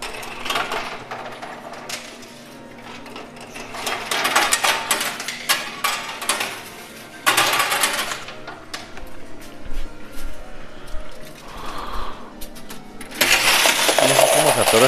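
Coins clattering and cascading in a coin pusher arcade machine with coin towers, repeated metallic jingling bursts and a final loud rush of tumbling coins, close, over machine hum and some talking.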